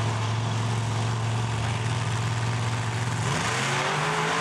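Monster trucks Snake Bite and Dirt Crew roar at a drag race in Indianapolis, engines droning loud and steady with a deep rumble that shifts pitch near the end as they accelerate, no talk.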